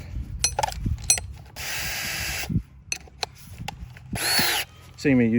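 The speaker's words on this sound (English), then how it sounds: "it's just a long drill bit" A power drill fitted with a long drill bit whirs in a few short bursts between handling clicks and clatter, close by, with a voice briefly audible near the end.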